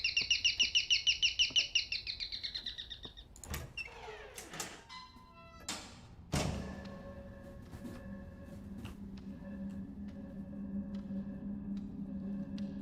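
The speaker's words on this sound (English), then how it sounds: "The bird sound is effectively what all the doorbells sound like out in Taiwan." An electronic birdsong doorbell of the kind common in Taiwan chirps in a rapid warbling trill, then clicks and clatter follow as a door opens, leaving a low hum behind.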